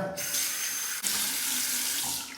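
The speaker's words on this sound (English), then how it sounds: "a final rinse, cold water" Cold tap water runs steadily into a sink for a rinse after shaving, a close hissing splash that continues almost without break, with a brief knock near the middle.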